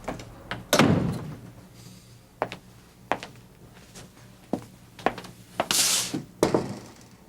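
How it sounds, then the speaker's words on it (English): Radio drama sound effect of a door opening and closing, with a heavy thump early on, then a run of sharp knocks, clicks and latch sounds, plus a brief airy swish near the end. "I thought I heard someone at the door."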